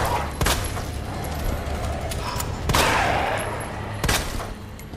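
Gunfire in the video game Resident Evil 2, three loud, spaced shots with ringing tails over a dense, noisy game background.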